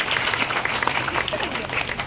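Brief burst of audience applause for a candidate at an apprenticeship fair in Sahebganj, steady clapping from a nearby crowd lasting a couple of seconds.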